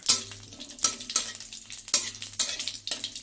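Cumin, bay leaf and dried red chilies sizzle in hot oil as a tempering for a light fish curry, a steady crackling hiss broken by repeated bursts of louder spitting as the pan is stirred.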